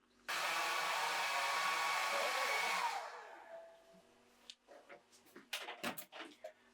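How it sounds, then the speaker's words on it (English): A hair dryer roars steadily at close range for a few seconds, then switches off, followed by quiet clattering and handling noises. "I'm going to blast it with a hairdryer."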